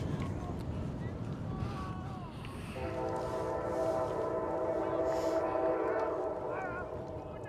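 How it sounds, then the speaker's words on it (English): An Amtrak passenger train passes near a baseball field, its steady rumble swelling midway into a sustained multi-tone horn blast that holds for several seconds over the ongoing rail noise, close and loud. "It's Amtrak time here in Northfield."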